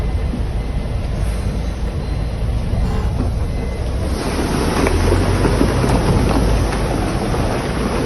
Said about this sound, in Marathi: प्रचंड पाऊस अचानक झाल्यामुळे ही परिस्थिती निर्माण झालेली आहे